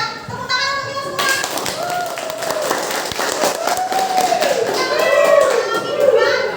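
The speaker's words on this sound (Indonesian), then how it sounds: "Tepuk tangan untuk kita semua." Schoolchildren clap together in a classroom at the end of a lesson, quick irregular hand taps mixed with excited young voices and a teacher speaking over them.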